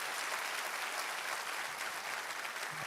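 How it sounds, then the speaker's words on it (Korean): A church congregation applauds a combined choir at a summer revival service, a dense, steady burst of clapping from a large crowd throughout. "우리 1부 3부 연합성가대 한번 힘찬 격려 박수 부탁합니다."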